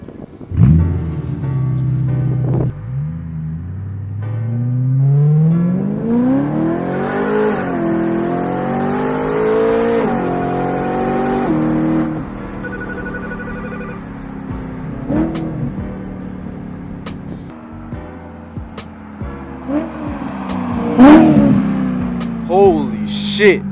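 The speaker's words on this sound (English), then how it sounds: "take my clamps off so I can go drive this thing around with no muffler" A car engine with its muffler removed revs loudly, rising and falling in long, raw, throaty sweeps up close, with people talking in between and a few sharp knocks toward the end.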